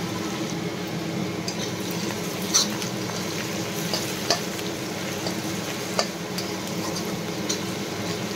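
Onions fry in hot oil in a home kitchen pan for a curry, a steady close sizzle running throughout, broken by a few soft clinks of a stirring spoon.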